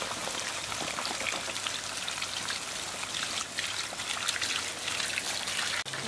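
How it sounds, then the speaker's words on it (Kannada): Water poured from a vessel onto taro corms planted in a pot, a steady splashing patter of drops on soil and leaves that runs continuously and close, with no voices. "ಅದಕ್ಕೆ ನೀರು ಹಾಕಬೇಕು"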